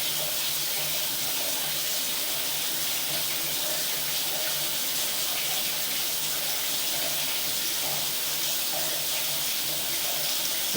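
Water rushes steadily through a drain line, a continuous even hiss and gush that runs unbroken from start to finish.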